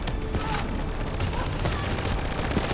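Sniper rifle fire in Call of Duty: Black Ops 3, loud heavy gunshots amid dense continuous battle noise and other weapons firing, with players talking over the chaos.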